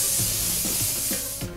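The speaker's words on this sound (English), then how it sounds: "I spray it into the napkin" Alcohol and water mix sprayed into a napkin at a barbershop, heard as a steady close hiss lasting over a second that tails off near the end.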